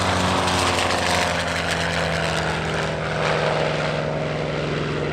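A Grumman C-1 Trader, a twin-piston-engine propeller carrier transport, flies past at EAA AirVenture Oshkosh 2023 with a loud, steady droning engine and propeller roar that holds throughout.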